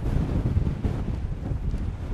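Strong wind buffets the microphone on an open hilltop, a continuous loud low roar with gusty swells and no break across the whole stretch.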